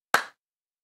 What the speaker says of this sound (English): We'll clap sync right now.